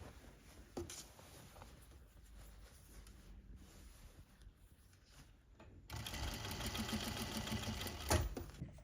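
Sewing machine stitching the neckline of a ruffled blouse, a close mechanical whir that starts quietly and runs faster and louder in the second half, heard alone without speech.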